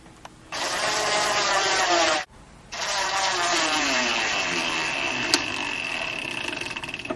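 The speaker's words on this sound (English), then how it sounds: "take our 1/2-inch flathead screws and screw it into place" A power driver whirs as 1/2-inch flathead screws are driven into an L bracket: one loud, steady burst, a short gap, then a longer run of close, even whirring.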